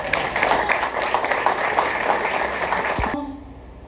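A church congregation claps and cheers in praise, a loud continuous wash of applause that cuts off abruptly near the end.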